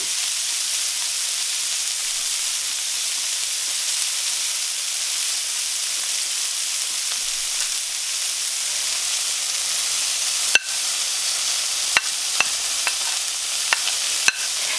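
Carrots fry in a couple of teaspoons of oil in a pan, giving a steady, even sizzling hiss throughout, with a few sharp clicks and pops near the end.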